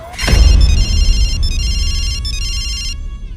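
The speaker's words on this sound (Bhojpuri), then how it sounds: "फोन उठाओ" A telephone rings loud and close in a domestic scene. A brief knock comes first, then electronic ring tones sound in about three repeated bursts, each separated by a short gap.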